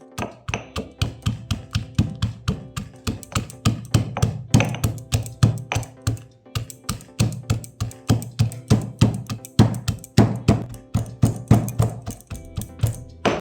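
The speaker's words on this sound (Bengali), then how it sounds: "এবার আমি ড্রাই ফ্রুটগুলো একটু থেতো করে নেব।" Cashews and almonds being crushed for carrot halwa, a long run of sharp, rhythmic thuds and taps, several a second, close and loud with no talking over them.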